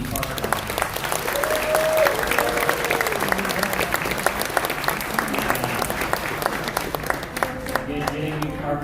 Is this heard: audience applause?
yes